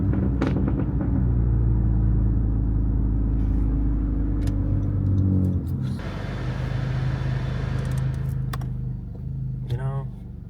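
A car rolls along with a steady low engine and road rumble from inside the cabin. The drone is heavy at first, then lightens and shifts partway through, and people talk over it.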